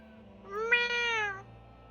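A cat in Final Fantasy XIV lets out a single clear, drawn-out meow, close and distinct over a quiet background with a faint low hum.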